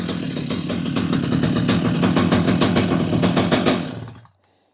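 Stihl MS250 chainsaw on half choke roars into life after a pull-start, a loud, close, rapid two-stroke firing with dense rhythmic pulses, running steadily for about four seconds before cutting off abruptly into silence.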